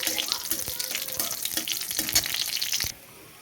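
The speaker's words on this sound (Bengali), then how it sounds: "রসুনটা ভাজা হয়ে গেছে" Garlic frying in a pan crackles and sizzles loudly and closely with bursts of spitting pops, then cuts off abruptly near the end.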